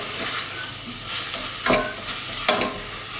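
Garlic and tomatoes frying together in a pan for homemade tomato relish give a continuous sizzle, with a few sharp scraping bursts as the mixture is stirred, close by and without talk.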